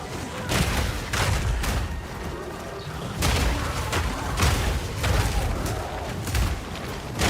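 A Chaos Barrage spell from the video game Path of Exile 2 lets off a rapid run of loud, booming bursts and impacts, one after another across the whole stretch, with other game effects mixed in.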